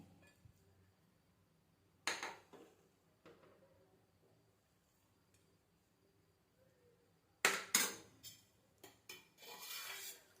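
Sparse clinks and scrapes of a spoon against a dish while serving hot moong dal khichdi, a few sharp knocks, then a short run of scraping near the end, otherwise quiet.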